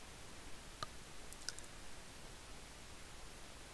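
A mouse click on the Settings button in the Windows 7 Advanced System Settings dialog: two faint, sharp clicks close together against a quiet room hiss.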